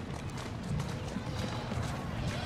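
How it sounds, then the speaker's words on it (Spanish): Horse hooves clopping and braking in Assassin's Creed Syndicate, a rapid run of hoof clip-clops on street cobbles that slows, with someone talking over it. "mira cómo frena, ¿eh? El caballo."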